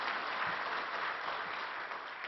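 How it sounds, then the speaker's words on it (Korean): A church congregation claps together in congratulation during an elder's retirement and ordination service, a steady dense wash of applause filling the room for a couple of seconds with no talk over it. "우리 다 같이 박수하겠습니다. 축하의 박수."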